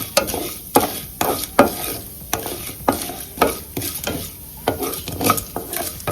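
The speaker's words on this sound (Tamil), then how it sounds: "இதுல கடுகு, உளுத்தம்பருப்பு போட்டாச்சு. இது நல்லா ஃப்ரை ஆகட்டும், நல்லா வதங்கட்டும்" Mustard seeds and urad dal frying in oil, with a crisp sizzle under a series of repeated spoon scrapes and stirs against the pan at an uneven but regular pace, close up.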